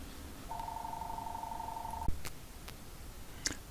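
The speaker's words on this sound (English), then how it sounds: "Please forgive me and excuse the ringing phone in the background." A telephone rings in the background indoors, a single faint electronic trilling tone lasting about a second and a half, followed by a couple of soft clicks, with no talk over it.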